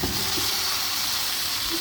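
Fried bottle gourd and potato pieces tipped into a pan of cooked masala, giving a steady, close, fairly loud sizzle and hiss with no talking.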